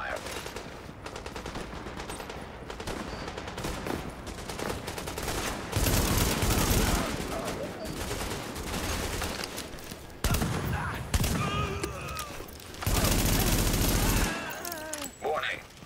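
Sustained gunfire from a combat firefight in the video game The Division at Times Square, dense repeated shots and bursts with louder surges, mixed with game sounds and occasional voice lines.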